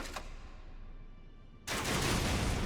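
Exploding crossbow bolts in Elden Ring: a quiet stretch is broken by a sudden loud, crackling burst of blasts that carries on to the end.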